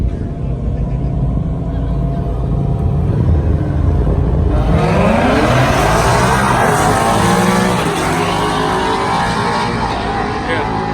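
A McLaren 720S and a Dodge Demon SRT Hellcat drag race, with loud engine roar swelling and rising in pitch as they accelerate past, crowd and track noise underneath.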